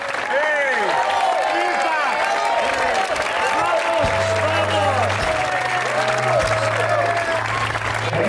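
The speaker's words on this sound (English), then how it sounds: "So all of you, a standing ovation." An audience gives a standing ovation at the finals of a tennis tournament for kids aged 9 to 16. Dense, sustained clapping continues throughout, with voices and cheers rising over it.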